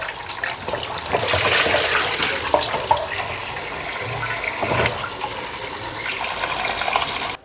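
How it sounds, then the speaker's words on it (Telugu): Running water splashes steadily while fish are washed in a kitchen sink, a continuous close gush with a few knocks and clatters, no talking. "చేపలు ఎంత క్లీన్గా కడుక్కుంటే అంత మంచిగా టేస్ట్ ఉంటుంది."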